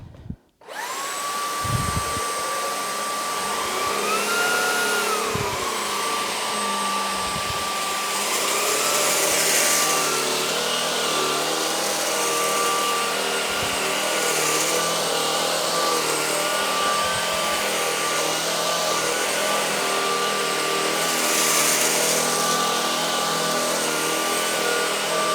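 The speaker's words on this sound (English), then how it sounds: "I'm just going to give you a demonstration of the vacuum now" Shark vacuum cleaner running in floor detect mode, a loud, steady motor whine with shifting pitch as suction rises and falls, broken by a few bumps and knocks as it moves across the floor.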